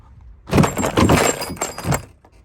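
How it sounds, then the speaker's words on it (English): Plastic clips crack and rattle as the interior door panel of a 1997–2004 Ford F-150 is pried up and lifted away, a close, loud two-second burst of scraping and popping. "now we can pull the door panel up"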